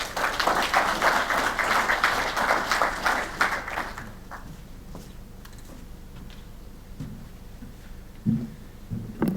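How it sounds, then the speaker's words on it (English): A conference audience claps for a speaker named Danny at a beef farming event, dense and loud for about four seconds before thinning into a few scattered claps and small room noises. "Could we give Danny a big round of applause"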